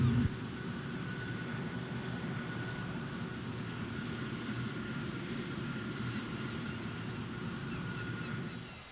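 An F3D Skyknight jet engine in a flight video game holds a steady, even drone from start to finish, fading slightly at the very end.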